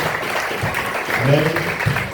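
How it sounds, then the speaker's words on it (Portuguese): Church congregation applause to the Lord during a service, a steady mid-level clapping wash mixed with murmuring voices and some tonal sound underneath. "Um aplauso ao Senhor, pastor."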